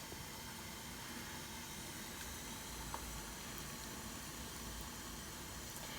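Curried cabbage fritter mixture simmering on medium heat, a faint, steady low hiss and bubbling with no distinct pops, continuous throughout.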